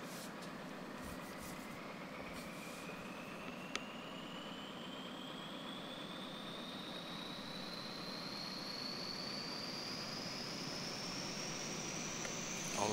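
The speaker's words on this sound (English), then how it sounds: "as you can hear the APU starting here in the back" A Dash 8 Q400 auxiliary power unit spools up in a flight simulator, a steady turbine rush with a rising whine climbing over several seconds, constant and fairly quiet.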